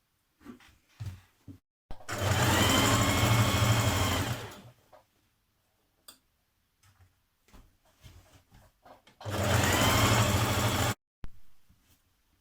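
A sewing machine stitches the centre seam of Simplicity 8424 leggings in two loud, steady runs of about two to three seconds each, separated by quiet handling noises.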